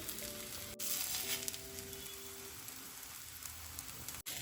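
Rava chila made from semolina batter crisps on an oiled pan, giving a soft, quiet sizzle that carries evenly under a faint hum, with a couple of brief clicks and no voices.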